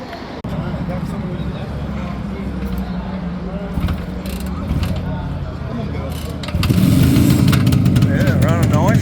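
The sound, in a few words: motorcycle engine idling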